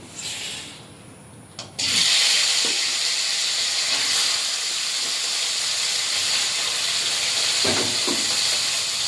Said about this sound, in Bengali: মাছগুলো বেশি ভাজবো না, হালকা করে ভেজে নেব